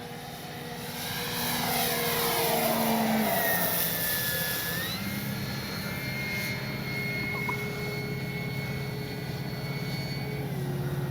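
A droning propeller engine of a large FMS 3m Fox model glider passes overhead, rising then holding steady at a moderate distance, with whooshing airflow and a shifting pitch as it flies by.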